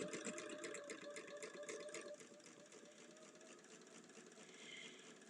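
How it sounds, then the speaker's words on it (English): A sewing machine runs steadily through a quarter-inch seam on a LeMoyne Star quilt block, its rapid mechanical whir close and continuous with no talking. "now I'm going to sew along this side right here. So 1/4 inch seam."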